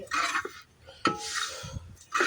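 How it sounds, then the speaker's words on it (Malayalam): A spoon scrapes and stirs chilli powder, tamarind and salt in a pan for Kerala chammanthi podi, with several rough, gritty strokes in quick bursts separated by short pauses, close and moderately loud. "ചേർത്തു പുളി ചേർത്തു ഉപ്പ് ചേർത്തു എല്ലാം കൂടെ മിക്സ് ചെയ്ത് ഇളക്കുകയാണ്"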